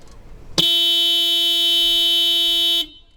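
A car horn gives one long, loud, steady blast of about two seconds, then cuts off sharply in an otherwise quiet space.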